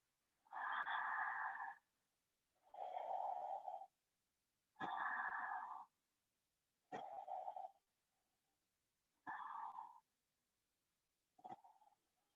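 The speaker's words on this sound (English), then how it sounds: "breathe slightly through your constricted throat, so having that ujjayi breath" Six slow, audible ujjayi yoga breaths drawn through a constricted throat, each a soft hissing rush lasting one to two seconds, separated by short silences; no talking.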